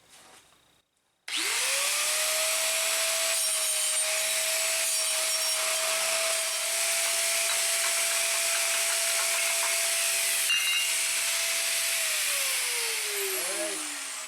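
A small cutting disc on a power tool grinds steadily through metal during a GMC/Chevy 1500 power steering pump replacement, starting abruptly after a short pause, loud and close, holding a whining tone for about eleven seconds before spinning down.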